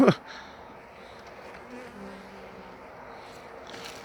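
A steady hum of Caucasian honeybees buzzing at their hive fills the clip, with a brief sharp noise at the very start and a few bees passing close.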